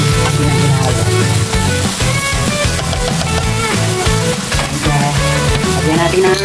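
Leftover baked pork being stirred in a frying pan, with steady loud sizzling and frying under repeated scraping and stirring of the utensil against the pan.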